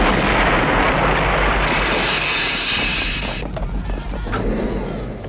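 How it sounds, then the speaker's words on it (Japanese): A pen grenade goes off in a James Bond action film scene, a loud, broad blast with rumbling, crackling debris that thins out and settles over several seconds. "ボンドは爆発までの回数を数え、動くタイミングを見極めた"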